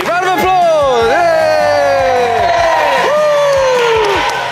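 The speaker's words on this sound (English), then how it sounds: "Round of applause! Yay!" A studio audience cheers with loud, close whoops and rising shouts during a basketball show, one sustained burst of voices without clear clapping.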